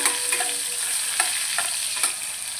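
Tomatoes sizzle in hot oil in a frying pan for a curry with green chillies, a steady loud hiss up close, with a few scraping stirs of the spoon and no talking.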